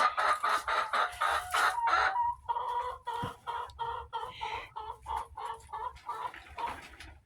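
A hen clucking repeatedly at close range, a burst of rapid excited clucks followed by steadier rhythmic clucking.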